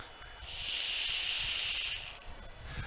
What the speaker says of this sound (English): You don't hear any more crackling anymore, because now it's bubbling like crazy